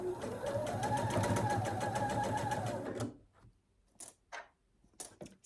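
A sewing machine stitches through a thick fabric basket seam with lining and outer layers, a loud steady rapid run for about three seconds that then stops, leaving a few faint clicks and brief handling sounds.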